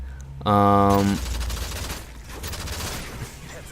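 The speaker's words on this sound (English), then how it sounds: "I managed to get that guy there with my pistol" Pistol gunfire in the Modern Warfare 3 video game, noisy bursts of shots following a brief tonal game sound, with a voice in the mix.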